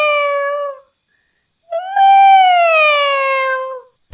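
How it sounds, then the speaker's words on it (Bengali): Loud, close cat meowing: a short plaintive meow, a pause, then a longer drawn-out meow that rises and slowly falls. "মনে হচ্ছে কোনো বিড়াল মিউ মিউ করছে।"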